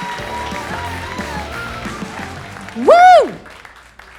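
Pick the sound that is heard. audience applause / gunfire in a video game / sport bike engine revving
audience applause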